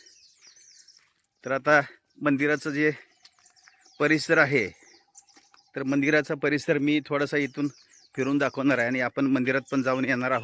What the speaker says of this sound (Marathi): सकाळची वेळ आहे, पक्ष्यांचा किलबिलाट किंवा चिवचिवाट आपल्याला ऐकायला येतोय